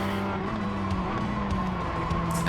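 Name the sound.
race car from iRacing video game replay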